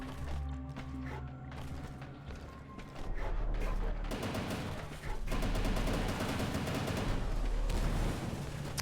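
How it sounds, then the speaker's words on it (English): Machine gun fire rattles in the first-person shooter Incision, dense rapid bursts with explosive booms beneath, loud and continuous over game music, with someone speaking briefly. "And the alt fire for the machine gun is, of course, incendiary launchers."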